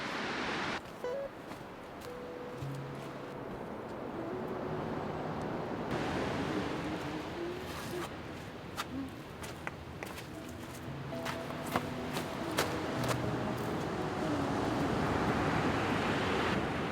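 Ocean surf on a beach as the tide goes out, a steady broad wash of breaking waves with wind rushing over the microphone, swelling louder toward the end, with no talking.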